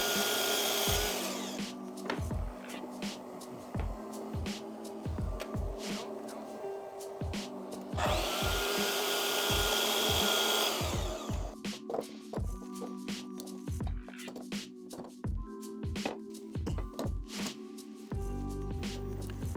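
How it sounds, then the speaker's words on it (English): Oak strips 50 mm wide are sawn to rough length by hand in a workshop, a steady rasping stroke rhythm with brief pauses and knocks, close and moderately loud. "I started to cut the 2 50mm oak strips that will be used on the top and bottom panels to their"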